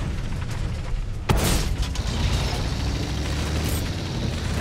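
A tank's main gun in World of Tanks fires once with a sharp, loud boom that trails into a low rumble, set against constant engine and battlefield background noise.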